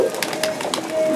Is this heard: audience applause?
no